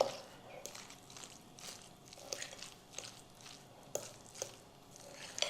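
Cottage cheese filling for khachapuri is worked in a bowl, soft irregular squishing and scraping strokes repeating at a moderate pace, fairly quiet and close, with occasional sharper taps of the utensil.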